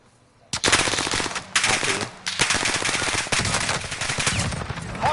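Rapid automatic gunfire in the online shooter Call of Duty Warzone, loud close bursts of fast repeated shots separated by brief pauses, running almost continuously.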